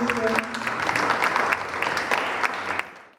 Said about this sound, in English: let's do this again